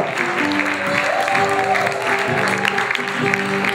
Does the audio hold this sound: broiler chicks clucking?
no